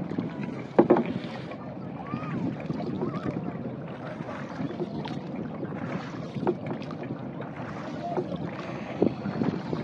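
A crowded boat moves across open floodwater in Dhaka, with sloshing and lapping waves, wind buffeting the microphone, and scattered faint voices in the background.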